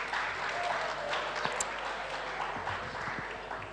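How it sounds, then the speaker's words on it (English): Audience applause for the honourees at the South African Women In Science Awards, a steady spread of clapping across the hall with a few sharper claps standing out. "a warm round of applause to start us off with for our awardees"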